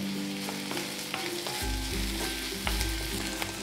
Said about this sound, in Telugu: ఉల్లిపాయలు ట్రాన్స్పరెంట్ అవుతున్నప్పుడు కొంచెం కరివేపాకు వేసుకొని కలుపుకోవాలి